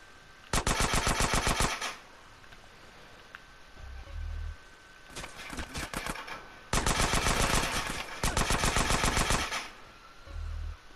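Automatic gunfire in GTA San Andreas Definitive Edition rattles out in several rapid bursts of a second or two each, separated by short gaps with low thumps between.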